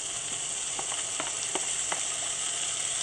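Prawns and a seafood mix fry in butter and garlic for spaghetti with mussels and king prawns, a constant close sizzle with a few soft stirring knocks and no voices.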